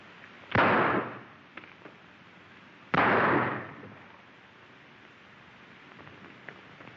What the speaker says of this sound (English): Make it fast, Slippery. This is your last draw.